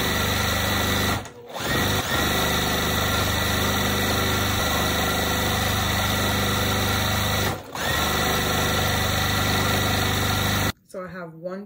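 A sewing machine stitches quilt block pieces together for a barn star sampler quilt, running in a steady continuous whir with two brief pauses and stopping near the end.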